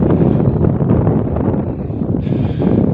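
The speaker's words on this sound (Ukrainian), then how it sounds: "Такий вітер, не знаю, чи чуть його буде." Wind blusters steadily against the microphone in an open field, a loud, low rushing noise that barely lets up.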